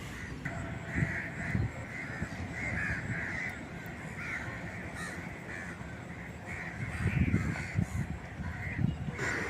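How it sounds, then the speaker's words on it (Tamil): Several crows caw repeatedly at Galle Dutch Fort in Sri Lanka, harsh calls coming in irregular bursts over a busy outdoor background with low murmurs and ambient noise. "என்னமோ இங்கே இத்தனை காக்கா உட்காண்ட்ருக்கு."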